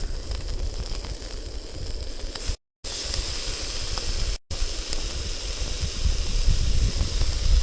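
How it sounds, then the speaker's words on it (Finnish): Bacon sizzles in a frying pan with a steady, dense hiss and crackle that fills the clip, loud and close, briefly cut out twice before continuing alone. "Laitetaan nekin tänne tirisemään."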